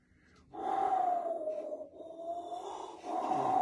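A voice imitates the wind, exhaling in a long, steady whooshing breath that rises and falls, pauses briefly, then resumes.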